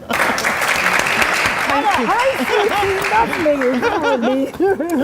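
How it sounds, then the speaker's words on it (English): An audience claps steadily throughout while voices talk and laugh over the applause. "Big round of applause."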